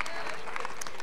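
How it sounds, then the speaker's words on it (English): A school spring concert audience gives a brief burst of applause, a dense wash of many hands clapping at once in a large room, with some crowd murmur mixed in. "they'll clap for that"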